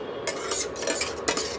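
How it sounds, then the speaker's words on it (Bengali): Bhola fish curry with eggplant and coriander being stirred in a pan, giving soft scraping and clinking of a utensil against the pan in short repeated strokes, close up with no talking. "এগুলো একটু নাড়িয়ে চাড়িয়ে দিলাম"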